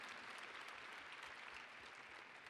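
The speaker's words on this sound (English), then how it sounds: "So let's give them a round of applause." Sustained crowd applause fills a BOM 2016 event in a Canucks venue, with many overlapping claps forming an even, continuous patter throughout and no voices rising above it.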